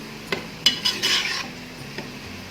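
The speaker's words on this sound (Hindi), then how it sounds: "तो ये हमारे प्याज ब्राउन हो रहे हैं।" A few clinking scrapes of a spoon stirring browning onions in a pan over a faint sizzle, with short bursts of metallic contact.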